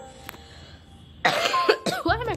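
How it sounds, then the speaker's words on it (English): A single person's cough, a short harsh burst followed by a second throaty hack, heard close over quiet background game sounds. "Why am I coughing so much today?"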